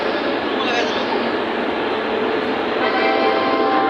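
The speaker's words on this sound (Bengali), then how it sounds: "এই যে ট্রেন আসছে" At a busy railway station, a train pulls in with a loud, steady rumble and rail noise that fills the whole stretch without pause.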